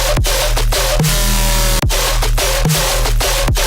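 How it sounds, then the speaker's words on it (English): Heavily distorted, gritty electronic bass in a pulsing dubstep pattern, loud and dense, with sharp rhythmic cuts and no voices. "then with all the group processing, with the distortion, sounds like this."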